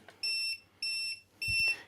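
Three short, high electronic beeps from an Arrma Senton 223S RC car controller sound in quick, even succession, close and clear, with a faint low hum beneath.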